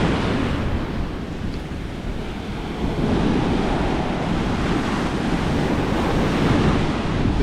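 Ocean waves wash up a beach on the USA coast, a loud continuous surf roar with wind buffeting the microphone, swelling slightly partway through and heard alone.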